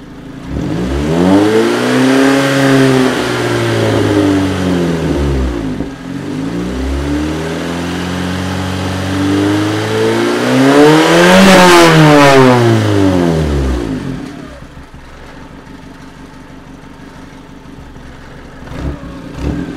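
A petrol generator engine, close and loud, revs up and down in repeated rising and falling sweeps over several seconds before dropping to a rough, uneven idle.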